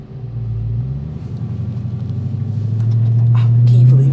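The engine of a 2022 Dodge Challenger SRT Super Stock rumbles at Texas Motor Speedway, a deep idle that swells into a louder rising rev toward the end.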